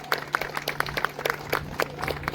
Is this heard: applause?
yes